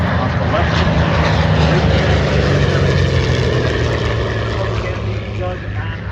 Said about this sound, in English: In the lead is the Mustang off the left.